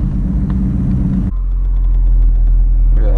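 A 2017 Camaro 1LE with manual transmission rumbles loudly from the cabin as it pulls away in first gear, deep low engine drone shifting in tone partway through, with a faint voice at the end.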